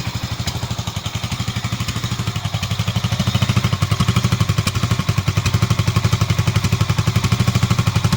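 A Keeway 250 motorcycle engine idles close by, a steady rapid chugging pulse with a rattly mechanical edge, loud and continuous throughout.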